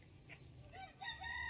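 A rooster crows at a chicken farm in San Carlos, Pangasinan, a short call rising from steady low outdoor rumble, with faint clucking from other fowl nearby.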